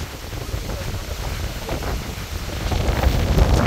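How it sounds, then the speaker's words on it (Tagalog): Strong stormy wind blowing outdoors, a continuous broadband roar that swells and grows louder toward the end, with no voices. "Kung madidinig nyo mga Potowski yung hangin, grabe."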